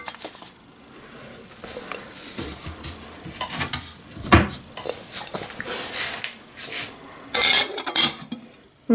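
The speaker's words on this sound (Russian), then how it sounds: "Мы закрываем крышечкой" A lid set onto a slow cooker pot while condensed milk cooks inside, giving scraping, clinking metal-and-glass handling noises that peak in a sharp clatter midway, close and fairly quiet.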